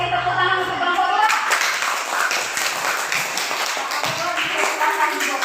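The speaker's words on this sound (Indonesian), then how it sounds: "mari kita beri tepuk tangan untuk kelompok 2" A fifth-grade elementary class in Indonesia claps for a student group after its presentation, a brisk burst of hand claps that starts after a moment of talk, with voices mixed in.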